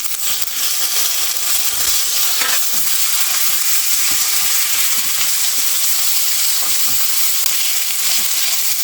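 Curry leaves dropped into hot oil sizzle and crackle loudly and continuously up close, with faint stirring taps.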